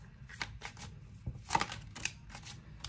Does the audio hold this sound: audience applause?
no